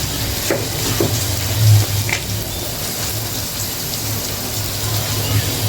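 Dried shrimp frying in a pan, a steady, loud sizzle and crackle throughout, with a few faint stirring knocks.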